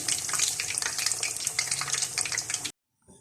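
Fish fries crisp in hot oil, a dense, crackling sizzle heard up close that carries on steadily, then cuts off abruptly near the end, leaving near silence.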